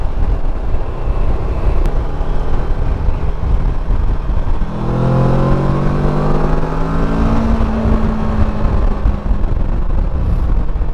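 A heavy Kawasaki Versys motorcycle rides along a road toward a dam, engine drone steady and loud throughout with wind rush, and a rising, shifting engine tone in the middle as it accelerates; no talking.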